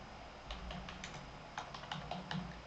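Soft, close clicking and tapping of typing on a computer keyboard comes in short irregular bursts against a quiet background.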